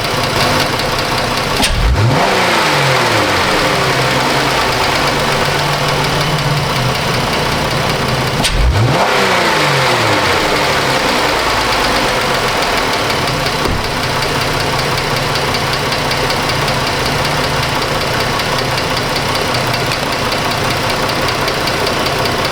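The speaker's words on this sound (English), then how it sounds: "So I'll give her a few rev up tune-ups here, see if anything changes there." A Chrysler 200 with an overheating problem revs up twice in quick sweeps, then settles into a steady, loud idle with a knocking mechanical texture, all close and continuous.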